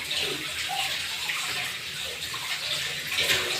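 Water is poured and splashes in a steady, hissing, continuous flow close by, with no voices over it.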